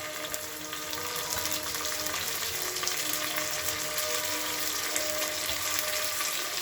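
Mint leaves frying in oil with onions, green chillies and spices for Telangana bagara rice, a steady close sizzle and crackle that holds evenly throughout with no talk.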